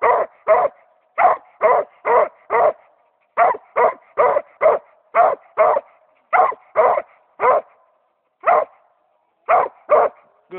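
A young hound bays at a raccoon up a tree, giving loud, close, repeated barks in quick bursts of two to five with short pauses between, and no talk over them.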